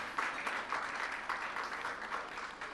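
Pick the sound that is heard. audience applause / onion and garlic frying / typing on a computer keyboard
audience applause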